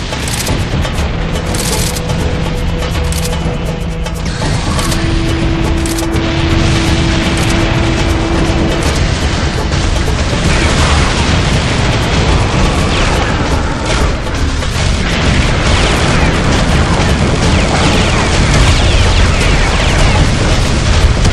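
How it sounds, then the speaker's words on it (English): A portable cannon in the video game Serious Sam 3: BFE fires amid a dense, unbroken wall of loud booming blasts and roaring noise that fills the whole stretch without pause. "Nothing says stopping power like a portable cannon."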